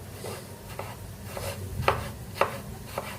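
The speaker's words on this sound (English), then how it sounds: "So chopping tomatoes slowly by slowly, then we'll be done." Tomatoes chopped on a cutting board, soft irregular knife taps spaced about half a second apart, two a bit sharper, quiet and close with no talking.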